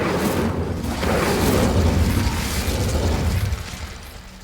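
Fire spell Incendio cast in the Hogwarts Legacy video game: a loud, broad whooshing roar of flame that swells and sustains for a few seconds before tapering off, with no voices.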